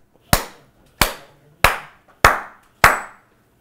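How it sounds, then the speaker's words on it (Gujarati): Hand claps used as an applause effect in a narrated story: five sharp, evenly spaced single claps about half a second apart, crisp and close with short decays, and no voices. "અને તાળીઓના ગડગડાટથી ઘર ગુંજી ઉઠ્યું"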